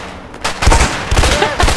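Rapid gunfire in the A Way Out video game: a quiet start breaks into loud, dense bursts of overlapping shots that rattle on steadily to the end.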